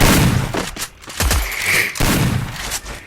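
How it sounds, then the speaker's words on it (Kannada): Ranked Counter-Strike play with only the P90 submachine gun: loud, rapid bursts of automatic fire crackle in several runs with short pauses between them. "ಓನ್ಲಿ P90ಯಲ್ಲೇ ಆಡಿಸೋದು, ಬೇರೆ ಗನ್ನೇ ಯೂಸ್ ಮಾಡಲ್ಲ"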